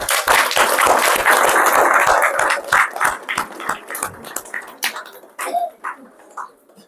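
An audience at a Hindi spiritual gathering claps together, loud and steady at first, then thinning into scattered, uneven claps.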